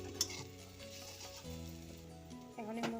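Soybeans fry and sizzle in a pan with a steady, fairly quiet crackle, and intermittent stirring scrapes sound close by over a low background hum.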